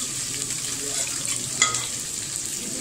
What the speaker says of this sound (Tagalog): At pag mainit ang mantika, gigisa na natin ang ating bawang.